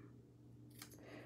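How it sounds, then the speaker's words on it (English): Scissors snip a paper strip for a handmade Christmas card in one quick, faint cut partway through, over a low steady hum. "I'm gonna cut this one"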